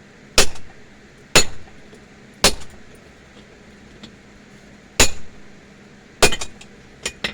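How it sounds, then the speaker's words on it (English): Hammer blows on an anvil while forging hot steel, six separate sharp ringing strikes spaced about a second apart, fairly light and close, with quiet workshop room tone between them. "doing little lighter blows, just because I don't want it to fly off"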